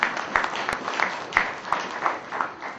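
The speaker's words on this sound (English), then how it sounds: "So I would like to invite Ajmal with a round of applause to join me over here" Applause at a scholarship event for a silver jubilee class reunion, a short stretch of loose, moderately distant clapping with distinct individual claps standing out.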